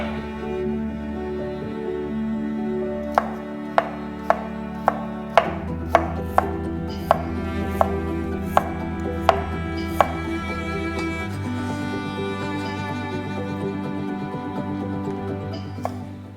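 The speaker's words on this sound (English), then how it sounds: "One radish, thinly sliced." A radish is thinly sliced with a knife on a board, a run of about a dozen crisp, evenly spaced chops standing out close and clear over a low background hum, no talking.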